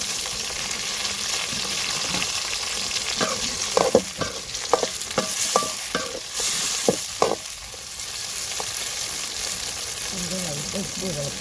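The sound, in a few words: tomatoes added and frying in mutton sukka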